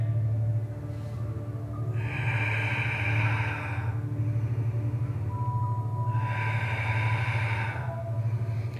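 Two long, audible exhalations during a home strength-training exercise, each lasting about two seconds, breathy and close over a steady low hum, with a quiet pause between them.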